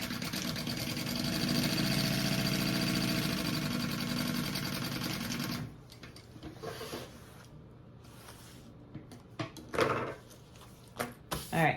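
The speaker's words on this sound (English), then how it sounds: "Let me sew this pocket together" A sewing machine stitches a pocket on a waist bag, its steady mechanical whir running loud and continuous for about six seconds, then stopping into quieter handling with a few short bursts of stitching near the end.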